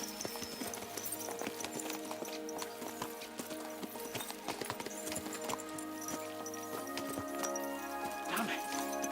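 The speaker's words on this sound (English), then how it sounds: "Let's really spur these horses on, eh?" Horses galloping in the video game Kingdom Come: Deliverance II: steady, close clip-clopping hoofbeats run throughout, with a neigh near the end, over busy background sound and voices.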